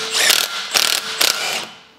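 Impact gun undoing the top mount nut on a VW Tiguan front strut, heard as three short rattling hammering bursts in quick succession, close and loud, followed by a brief tail of whirring.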